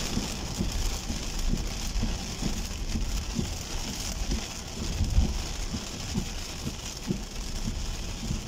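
Heavy rain drums steadily on a car, a dense close patter with irregular heavier thumps throughout.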